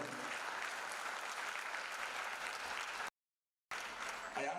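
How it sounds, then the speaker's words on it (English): Participants at an international science conference applaud the Vice Chancellor, steady dense clapping from a seated crowd, broken by a brief dropout before resuming. "I request all participants to give a big clap to our Vice Chancellor Madam"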